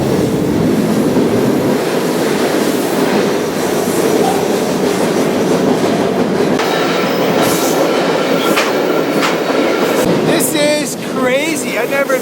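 A freight train rolls loud and close along the rails in the Pacific Northwest near a forest fire, with a constant heavy rumble and clatter that ends in sharp, wavering wheel squeals.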